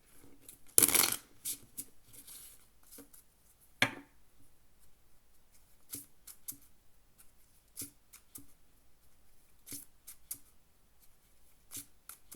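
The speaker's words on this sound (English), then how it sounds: "See, one more shuffle." Poker cards being shuffled, with soft scattered clicks and light riffling taps spread across the span and one sharper snap near the start, fairly quiet and without talk.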